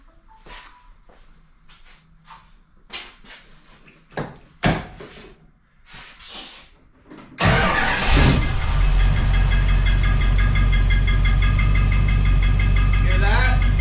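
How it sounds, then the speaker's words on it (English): A 1969 Plymouth Fury III with a rebuilt engine: scattered clicks and handling knocks, then the engine cranks, catches and settles into a loud, steady, close-up idle that runs to the end. "I'm going to get it started just for a second, just so you can see where we're at."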